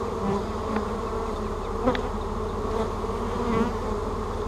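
A dense, steady hum of honey bees buzzing in and around a hive with a laying worker problem, vacuumed bees swarming close by in a continuous droning mass.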